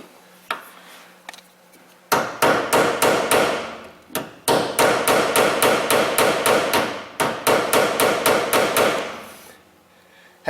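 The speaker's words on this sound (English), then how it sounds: "I need a bigger hammer, I'll tell you that." Rapid bursts of metal hammering on a Kia Rondo car part, loud and close, in several long runs of steady blows separated by brief pauses.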